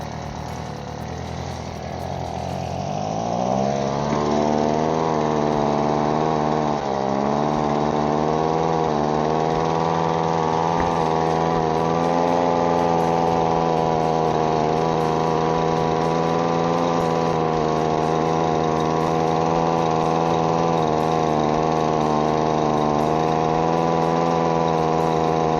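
A freshly repaired handheld leaf blower's small engine sputters to life, then settles into a steady, buzzing drone that runs continuously and close, with no voices.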